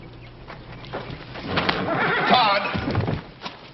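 A horse gives a loud, close whinny that swells through the middle and fades, with a few hoof thuds and clatter in a Western ranch setting.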